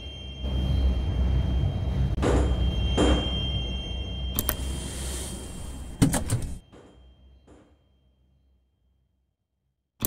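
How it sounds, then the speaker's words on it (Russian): Metro train doors closing in a Moscow Metro simulator game on the Filyovskaya line, with a steady rumble, several sharp clunks and a final thud as the doors shut, then quiet. "Осторожно, двери закрываются."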